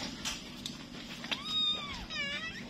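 A newborn Scottish Fold kitten meows during a birth, with a few thin, wavering cries rising and falling close by, the last ones quicker and stacked together, over a light background hiss.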